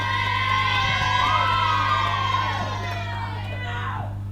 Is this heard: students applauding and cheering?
yes